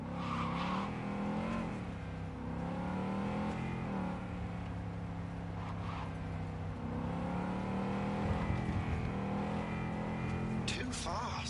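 Car driving in Cyberpunk 2077, with a continuous engine drone whose pitch rises and falls under almost constant talking.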